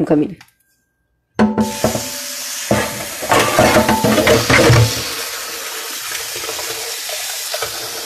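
Water runs from a tap into a sink during cold porcelain clay craft work, a steady hissing splash that starts after a brief silence and continues, with clattering handling noises over it.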